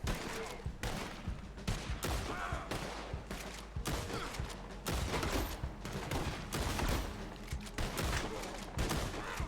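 Dense, near-continuous gunshots in Red Dead Online, repeated loud cracks and volleys stacked over one another throughout, with game ambience under them.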